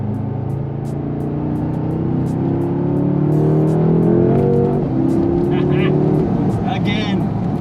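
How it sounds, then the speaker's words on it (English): A BMW F10 M5 with a JB4 tune pulls hard through second gear, its engine note climbing steadily and loud from inside the car, then easing off, with brief ticking clicks and someone talking over it. "Another tiny little second gear roll on."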